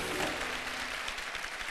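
A studio audience at a television show for Best Model winners breaks into applause, a dense, steady wash of clapping that holds at even loudness for a moment.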